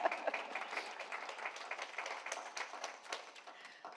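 An audience at a library-themed author talk breaks into steady, dense applause that carries on for several seconds, fairly distant and even, with no voices over it.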